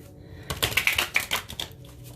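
A deck of Ship of Fools tarot cards is shuffled up close, a quick burst of crisp riffling clicks and flutters lasting about a second, with quiet before and after.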